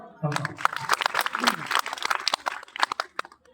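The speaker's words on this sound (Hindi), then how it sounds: "गीत आप एक बार ताली बजाओ" At a government school poetry recital, an audience gives scattered, uneven claps, sharp and near, mixed in with a voice talking over them.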